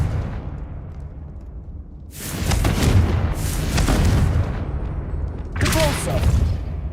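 Confringo spell explosions in the PS5 game Hogwarts Legacy: two loud, deep blasts with crackling, rumbling tails, the first sustained for several seconds and a second burst near the end, over a low background rumble.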